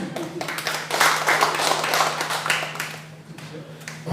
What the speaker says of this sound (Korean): 혹시 동의되시면 박수 한번 쳐주세요.